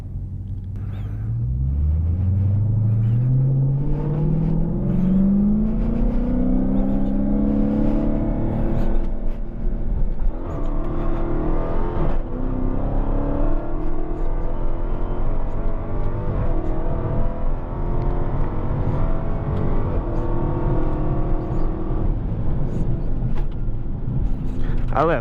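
A Dodge Challenger Hellcat launching in a roll race with slight tire spin, its engine note climbing loud and close through the gears in a long sustained pull, dropping in pitch at each shift.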